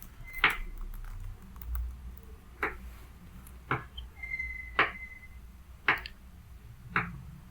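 Computer keyboard typing during a Canva design session: six or seven sharp, isolated key clicks spaced about a second apart, close and fairly quiet, with no talking.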